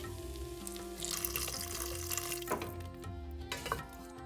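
Hot water pours steadily into a metal pan, a continuous splashing rush with faint clinks, no voices.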